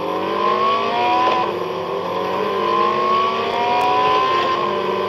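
A race car engine in a mobile racing game revs hard and climbs steadily through its rise in pitch, loud and close, with a brief dip as the gears shift.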